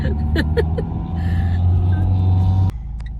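Car engine humming and pulling steadily through a driving lesson in traffic, a continuous close drone with a brief clunk near the end and no speech.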